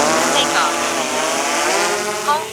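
A camera drone lifts off beside a lake field, its propeller motors whining in layered, shifting tones as they spin up. A voice briefly speaks over the buzz.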